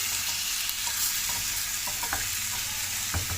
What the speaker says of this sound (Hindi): और इस चिकन को आपने इतनी देर तक पकाना है जब तक इसका कलर चेंज नहीं होता।